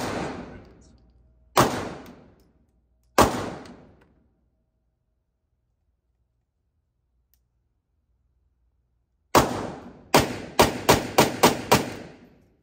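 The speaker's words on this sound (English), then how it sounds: "Another gentleman here at the gun range shooting 10 rounds." Pistol shots from a Phoenix Trinity at a gun range: loud, sharp cracks with ringing tails, three spaced shots, a long silence, then a fast string of about seven shots near the end.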